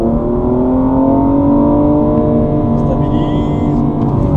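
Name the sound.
BMW M235i car accelerating on test track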